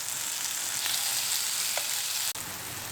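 Tomato slices sizzle steadily in a pan, a dense continuous frying hiss with a faint light clink near the end, no voices.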